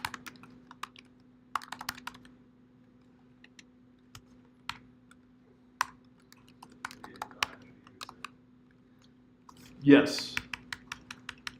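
Fingers type on a computer keyboard while entering code, with irregular, close keystroke clicks in short bursts and a louder cluster of taps near the end. A voice briefly says a single word.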